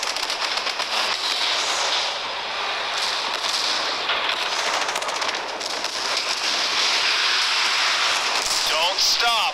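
Tank gunfire in the mobile game Tank Force, a dense, continuous clatter of shots and explosions that stays loud for the whole stretch with no pauses.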